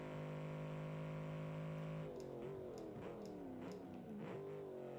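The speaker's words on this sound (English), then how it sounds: "sound of that V8." A V8 race car engine holds a steady high drone, then revs up and down in quick rising and falling sweeps, loud and close with no talk over it.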